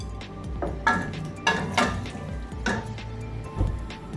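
Two small onions hit about half a cup of hot oil in a pot, giving a soft sizzle with several clattering bursts of stirring utensils against the pot, no talking.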